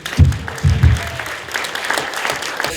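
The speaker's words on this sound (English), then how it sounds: "let's have a big round of applause for everyone" Brief bursts of clapping from a small group at an award ceremony, loud at first in a couple of waves, then thinning into scattered softer claps.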